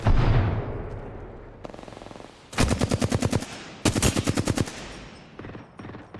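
Automatic weapon fire rattles in Apex Legends: a dense burst opens, followed by two long, loud, rapid bursts with a metallic ring, then sparser shots trailing off.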